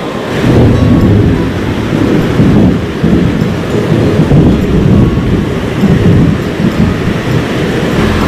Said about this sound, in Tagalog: Napakalakas ng ulan mga par.